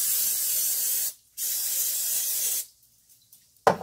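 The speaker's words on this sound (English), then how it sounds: "I'm gonna spray" Two long hissing bursts from a cooking spray can, close and loud, separated by a short pause, followed by a brief rattle.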